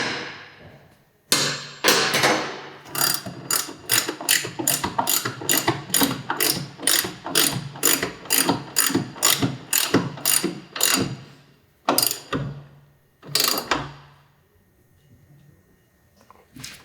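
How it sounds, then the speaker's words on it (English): A ratcheting torque wrench tightens the axle of a Yamaha YZF-R3 motorcycle. It gives a long run of close, evenly spaced ratchet clicks, then a few separate bursts near the end, with no talk. "I have been actually torquing this axle, right?"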